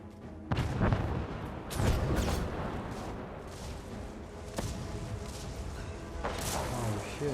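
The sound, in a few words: artillery fire in the video game Guild Wars 2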